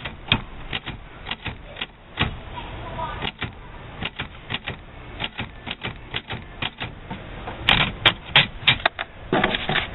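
Typewriter keys strike one at a time to cut a stencil, giving close, crisp clacks at an uneven, deliberate pace, with a denser burst of strikes near the end.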